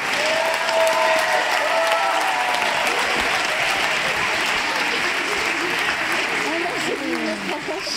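An audience applauds in a dense, sustained wave of clapping, with a few voices and cheers rising faintly through it.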